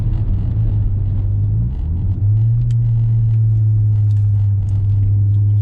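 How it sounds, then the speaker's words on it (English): Audi UrS6 C4 with an AAN big turbo upgrade pulling hard through second and third gear, a loud, close engine drone rising in pitch, dipping briefly at the shift, then climbing again with whooshing turbo noise. "give it a whirl, second and third gear"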